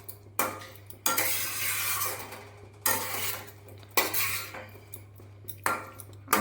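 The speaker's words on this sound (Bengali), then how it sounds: "আলুটা দিয়েও কিছুক্ষণ ভালো করে কষিয়ে নিতে হবে" Potatoes are stirred through a spiced masala in a pan for an egg omelette curry, with repeated metal spatula scrapes and clanks against the pan coming in regular bursts over a low, faint hum.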